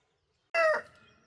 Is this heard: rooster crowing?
yes